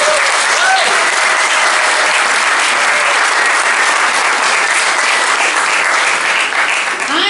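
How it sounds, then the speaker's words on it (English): An audience at a women's club debate bursts into loud, sustained applause, a dense unbroken roar of many hands clapping throughout. "Big round of applause"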